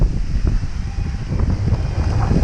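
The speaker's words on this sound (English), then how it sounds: "the wind hasn't died down and it's not gonna" Strong, steady wind buffets the microphone outdoors near a crane, producing a loud, continuous low roar and rumble with gusty fluctuations and no voices.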